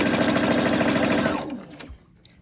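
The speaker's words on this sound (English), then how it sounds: "And you're going to stitch down the other side." A sewing machine stitches down the second side of a fabric piece, close to the edge. It runs in a loud, steady whirr for about a second and a half, then stops and leaves faint handling noise.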